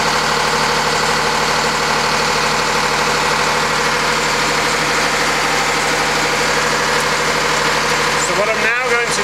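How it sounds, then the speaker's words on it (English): An engine-driven motor spins a homemade asynchronous generator, giving a loud, steady idling drone with constant hum for the whole stretch, ending with a brief disturbance near the end. "you can see the motor whizzing round"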